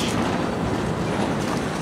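A CSX freight train, led by CSX 5426 on the Q410 with locomotives totaling 13,200 horsepower, rumbles past close by as a steady, loud roar of rail noise with wheel clatter throughout.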